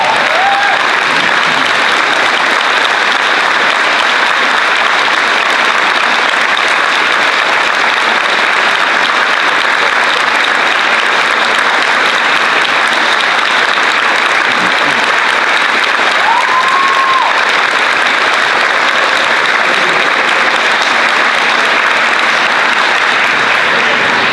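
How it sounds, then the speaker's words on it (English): Sustained, loud applause from a large audience at a school prize assembly fills the whole stretch, steady and even throughout. "one final round of applause"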